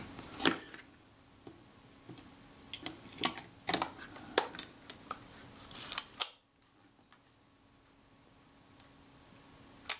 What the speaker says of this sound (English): That was still the film advance releasing early.